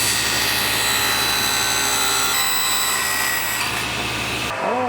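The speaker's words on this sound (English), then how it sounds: "the old oily sanding disc for the angle grinder" An angle grinder fitted with an old oily sanding disc grinds through a plexiglass mold, a loud, steady, unbroken whine that holds throughout and cuts off abruptly at the end.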